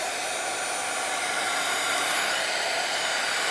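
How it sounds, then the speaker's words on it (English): Heat gun blowing steadily at close range, a loud continuous airy roar with a faint rattle mixed in, no voices. "I'm going to try and use my heat gun"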